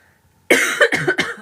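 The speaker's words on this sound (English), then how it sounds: "apologies for coughing" A sudden burst of harsh, close coughs, three or four in quick succession after a moment of near silence.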